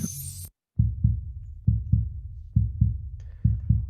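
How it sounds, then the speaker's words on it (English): A heartbeat sound effect from a video editor's built-in library: deep, thumping lub-dub pairs repeating at a steady pulse, loud and close, alone with no talking. "heartbeat"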